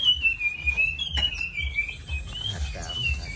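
Caged songbirds in a Vietnamese bird shop sing, with one long, clear, wavering whistle carried over softer chirps and faint background rustle.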